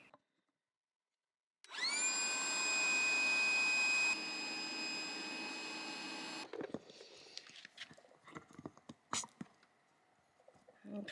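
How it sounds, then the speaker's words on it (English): A small portable air compressor bought to inflate van tires and a stand-up paddleboard starts after a silence and runs loud and steady with a whining hum for about five seconds, then gives way to clattering handling noises. "I decided to get a little air compressor, mostly for my tires on the van"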